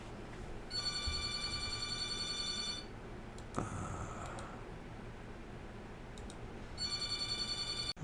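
A telephone rings with two long electronic bursts separated by a pause of a few seconds, fairly quiet over a soft background hiss, with no talking.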